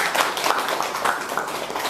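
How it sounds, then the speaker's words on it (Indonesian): A ceremony audience applauds for a police general, a dense, even wash of many hands clapping at close range with no break. "Boleh kita iringi tepuk tangan yang paling meriah"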